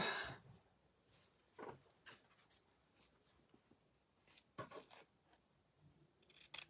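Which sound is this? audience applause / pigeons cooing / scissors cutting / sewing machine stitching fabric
scissors cutting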